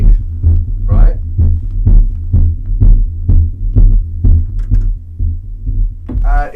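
Techno track with a thumping kick drum and deep bass pulsing through studio speakers in a steady four-on-the-floor rhythm, loud and close, with brief voice sounds near the end.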